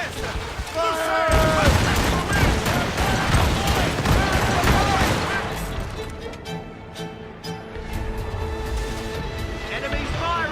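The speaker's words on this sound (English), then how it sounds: "They're firing a volley!" During a naval battle in Assassin's Creed Rogue, cannon volleys boom in rapid, dense succession with crashing impacts, loud at first and thinning out later, while shouted crew voices carry over the gunfire.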